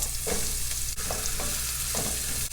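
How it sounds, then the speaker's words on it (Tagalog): Garlic, onion and carrot fry in hot oil in a medium pan, giving a loud, close, steady sizzle broken by a few distinct stirring strokes and clinks. "Painit po tayo ng mantika sa isang katamtamang laki ng kawali bawang, isunod ang sibuyas, isunod po ang karot"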